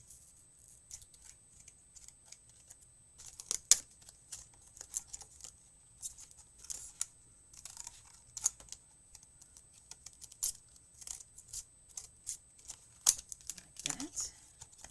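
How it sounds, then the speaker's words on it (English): Scissors snip across the top edge of a folded paper Santa craft card, giving several short, close crisp cuts with faint paper rustle between them and no talk. "Take my scissors and we will cut across the top here"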